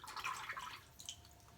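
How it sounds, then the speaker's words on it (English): Water runs from a tap to wet a shaving razor at a sink, a close, steady splashing hiss that fades after about a second, followed by softer drips and trickles. "I'm gonna wet my razor."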